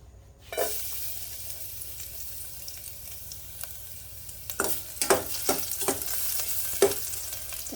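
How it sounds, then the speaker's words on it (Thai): Fermented fish stir-fried in a pan, a steady hiss of sizzling oil broken by several sharp scraping and stirring strokes, loud and close with no talk. "แต่ปลาส้มขอผัดนิดหนึ่งนะคะ"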